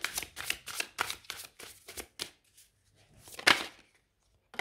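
Tarot cards are shuffled in a quick run of crisp riffling bursts, followed by a few softer slides and taps as a card is drawn, with a louder flick near the end, close and alone.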